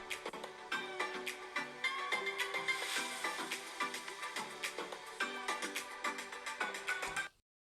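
Galaxy Book2 Pro laptop speakers at half volume playing a bright, rhythmic melodic test tune with regular plucked notes, thin and lacking bass, running steadily before cutting off abruptly into silence.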